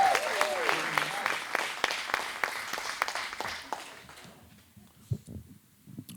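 Audience applause after an introduction at a talk, loud clapping that fades over several seconds and thins into a few scattered claps.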